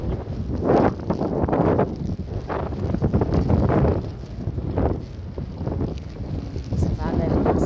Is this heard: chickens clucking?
no